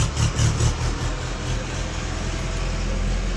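A vehicle engine rumbles nearby as it passes, a steady mid-pitched drone with a broad roar that is a little louder at first and then settles into an even hum, with no voices.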